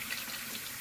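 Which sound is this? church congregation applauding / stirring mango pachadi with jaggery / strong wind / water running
water running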